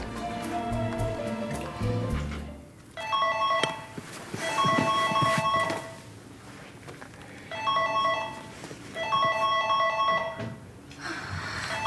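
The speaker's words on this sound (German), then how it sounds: "Es gibt doch kaum was Schöneres als das melodische Klingeln eines Telefons." A telephone plays a melodic electronic ring in repeated bursts, with short gaps between each ring. The ringing is loud and close.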